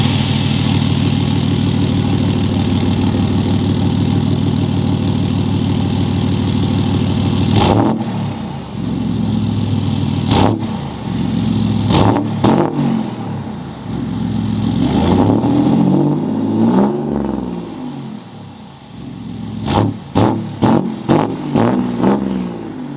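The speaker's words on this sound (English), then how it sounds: "Let's get it started up and we'll rev it a few times." A 2019 Ford F-150 Platinum with a 3.0L Powerstroke diesel and DPF and EGR delete runs at a steady loud idle, then revs repeatedly in sharp bursts that fall back, ending in a quick series of short blips.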